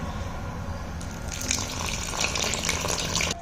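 Water poured into flour and curd dough for potato paratha, a continuous splashing trickle growing slightly brighter near the end, with no voices.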